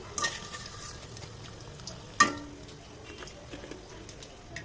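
Chicken mince kebabs frying in oil in a wok, a low steady crackle with two sharp utensil clinks, one near the start and one louder midway.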